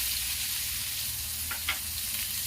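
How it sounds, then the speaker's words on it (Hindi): Onion frying in oil with dried red chillies for chana dal tadka, a steady low hiss of sizzling with a couple of brief stirring scrapes, close and unaccompanied by speech. "दोस्तों अब मैं प्याज डाल दूंगी, क्योंकि सूखी लाल मिर्च बिल्कुल बेसी भूनने से काला हो जाता है"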